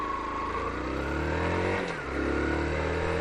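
Motorcycle engine accelerating across a car park ahead of an emergency stop, a loud, close revving that climbs in pitch, dips briefly at a gear change and then pulls up again, with no one talking.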